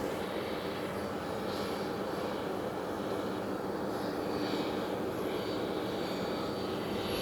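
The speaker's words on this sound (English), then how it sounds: "the 777 to Heathrow, I can hear them taking off on the other end" A distant Boeing 777 taking off roars steadily, a broad continuous jet rumble that swells slightly midway, with no voices.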